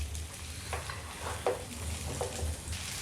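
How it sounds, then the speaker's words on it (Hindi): Onions and green chillies for mutton chilli frying on a medium flame, a steady close sizzle over a low hum, broken by a few soft stirring scrapes, with no talking. "फ्लेम को मीडियम रखकर हम अच्छी तरह से सब चीज़ों को फ्राई करने वाले हैं 2 से 3 मिनट।"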